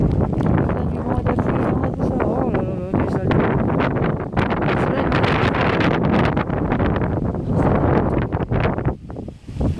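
Steady wind buffets the microphone outdoors in a French home garden, a continuous loud rumble with gusts and rustling, a voice speaking intermittently over it.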